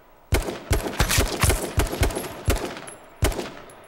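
Rapid bursts of gunfire in the battle royale game H1Z1, several loud, sharp shots in an uneven rhythm followed by a lone final shot after a short pause, with no talking.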